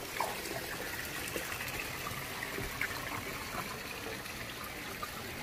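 Water in a garden koi pond splashes and trickles steadily throughout, a continuous wet dribbling wash with no voices, fairly close and even in level.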